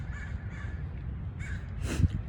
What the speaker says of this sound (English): oh, there's a bird right there.